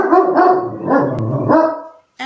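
A dog barks several times in quick succession at close range, a run of loud, rough barks over about two seconds with a brief pause before a final bark begins.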